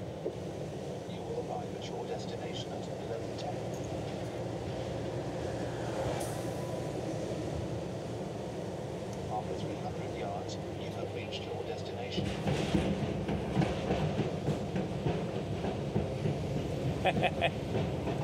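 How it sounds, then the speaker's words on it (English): A train rumbles across a temporary bridge, a steady loud roar of wheels and rails that grows heavier partway through with added clatter, heard from nearby. "Let's hear this temporary bridge noise."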